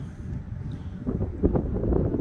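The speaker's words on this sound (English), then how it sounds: "It's super windy outside." Wind gusts buffet the microphone outside a 2023 Cedar Creek 371FL fifth-wheel RV with a low, rumbling roar that swells and grows stronger toward the end.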